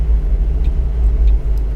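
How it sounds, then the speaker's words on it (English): A passing car in the driving game Tourist Bus Simulator, heard as a steady, loud low engine rumble with faint higher hiss, no voices over it. "There's a car coming in."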